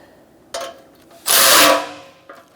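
A short power-tool whir snugging a bolt on a 2012-2018 Ford Focus front bumper impact absorber, one sustained buzzing burst after a couple of brief clicks, close and loud.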